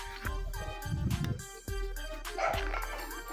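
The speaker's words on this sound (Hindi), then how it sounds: "ये जो अंदर भौंक रहा है वो हो रहा है।" Dog barking from inside a building, a few short barks spread across the moment at moderate distance, with background noise and no clear talk.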